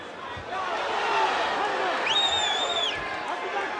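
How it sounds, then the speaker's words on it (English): A roaring arena crowd fills the air at a UFC 3 video game fight in Charlotte, loud sustained cheering and babble with a brief high whistle-like cry in the middle. "this crowd here in Charlotte is simply frenzied"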